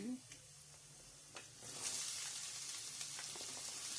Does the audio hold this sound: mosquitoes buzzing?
no